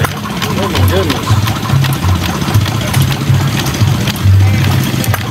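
A hit and miss engine chugs with a steady, low, uneven thump close by, its irregular firing beats running beneath people talking.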